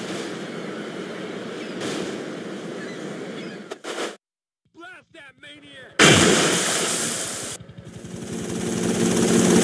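Gunfire erupts in a Grand Theft Auto: Liberty City Stories firefight, dense loud bursts of shots with a sudden gap of near silence, then another heavy barrage resuming.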